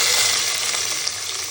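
Whole spices such as cardamom and cloves frying in hot oil for biryani while being stirred, a bright, loud, continuous hiss of sizzling that holds steady throughout the short moment.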